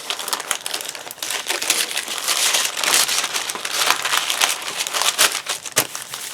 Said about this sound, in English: here's this piece of parchment, and I think I'm just going to fold this